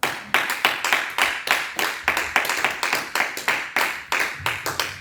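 A church congregation claps in a steady rhythm to acclaim the Lord, sharp close hand claps repeating about four times a second, with a faint voice underneath.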